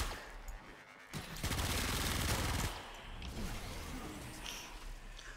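Secura Dual Cestra pistols in the Warframe video game fire a dense burst of rapid automatic shots, loud and close, breaking off into quieter game effects and scattered whooshes.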